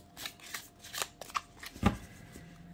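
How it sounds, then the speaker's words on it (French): A deck of cards is shuffled and cut close by: a quiet run of crisp riffling flicks and snaps, ending in one sharper slap of the cut. "Hop, je coupe. Et je vais sélectionner cette carte."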